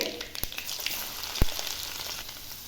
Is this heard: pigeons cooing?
no